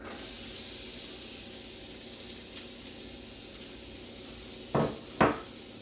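Onions hit a hot pan of melting fat for a steakhouse burger sloppy joe, giving a steady broadband sizzle with two sharp louder bursts near the end as more pieces drop in.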